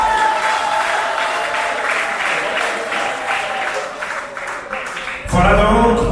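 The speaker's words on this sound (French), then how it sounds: "Est-ce qu'on peut applaudir très très fort?" Wedding guests applaud loudly and continuously after a call to clap during the reception speeches, with a burst of louder, closer clapping and crowd noise at the end.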